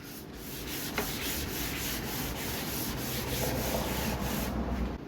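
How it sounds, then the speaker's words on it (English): Hand sanding a vintage wooden end table with 320-grit sandpaper gives a soft, steady rhythmic scratching of quick back-and-forth strokes, close and fairly quiet, with no talking. "sand it real quick with some 320 sandpaper."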